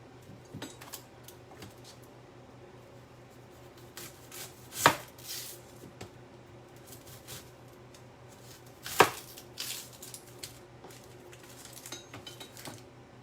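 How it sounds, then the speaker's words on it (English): A knife chops vegetables on a cutting board in a home kitchen, with steady faint taps broken by two sharp, loud clinks of metal or dishes. "let's get chopping"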